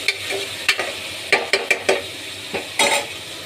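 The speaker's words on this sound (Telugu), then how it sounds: "ఇప్పుడు సన్న కట్ చేసుకున్న టమాటా వేసుకోవాలి. అలా కొద్దిగా కలుపుకోవాలి." Chopped tomato stirred into a frying pulihora mixture in a home kitchen pan, a soft steady sizzle broken by several sharp scrapes and clinks of a spoon against the pan, close and clear with no talking.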